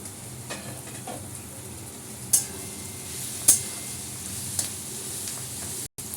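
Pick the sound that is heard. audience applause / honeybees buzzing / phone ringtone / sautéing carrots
sautéing carrots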